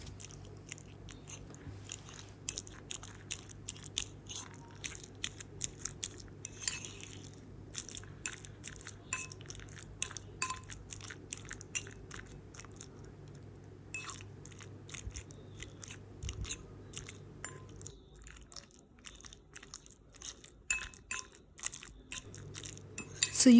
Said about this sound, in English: So using a fork to mash it up actually saves a lot of time than to use a knife and cut it one by one.